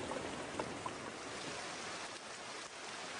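Rain falls on a tropical island, a soft, even wash of drops pattering on surfaces with a few faint, close taps, fairly quiet throughout.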